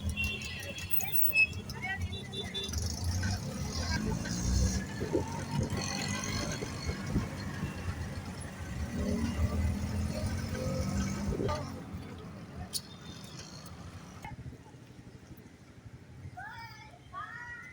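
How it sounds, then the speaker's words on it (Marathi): Auto rickshaw ride along a road in Panvel, Navi Mumbai, with steady engine and traffic rumble throughout, a busy roadside wash easing off near the end as birds chirp; voices talk over it. "तर आपण रिक्षाने तिथे जाऊ."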